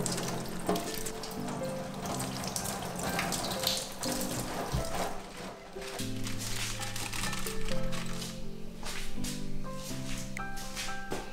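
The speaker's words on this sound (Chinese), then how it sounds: "稍微把土给冲洗一下" Tap water runs over fresh spinach to rinse off soil, a continuous splashing stream with small fluctuations, fairly quiet beneath background music.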